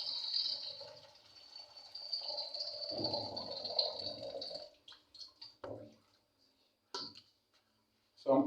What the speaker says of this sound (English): Now I'm removing the water.